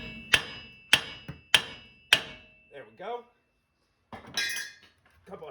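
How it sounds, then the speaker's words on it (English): Four sharp metallic hammer blows ring out at an even pace, knocking out a ball joint on a 2013 Chevrolet Suburban, loud and close, each with a short ringing decay, followed by someone speaking briefly. "Couple of hammer blows."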